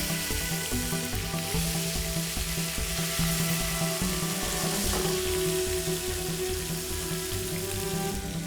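Butter sizzles and browns in a pan while fish and potatoes are being cooked, giving a dense, steady, loud frying hiss that runs without a break and with no voices.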